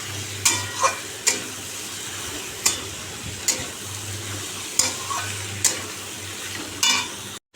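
Pre-fried jackfruit is stirred and sautéed in a pan of hot oil, with a soft constant sizzle broken by sharp spatula scrapes and knocks at irregular intervals, close and without speech.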